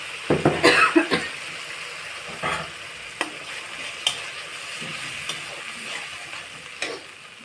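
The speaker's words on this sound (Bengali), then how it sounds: "এর মধ্যে আমি চিনি দিয়ে ভালো করে ঘেঁটে নিচ্ছি।" An egg masala mixture with sugar and yogurt is stirred in a pan, giving a quick cluster of scraping, clattering strokes at first, then sparser light scrapes and clicks over a soft background.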